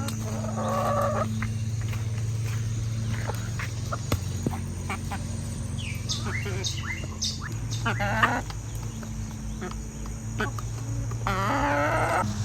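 Farm chickens cluck and squawk close by while eating scraps, their calls scattered over a steady low mechanical hum. A person talks at times among them.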